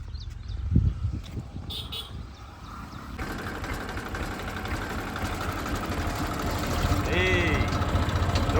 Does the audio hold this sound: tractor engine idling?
yes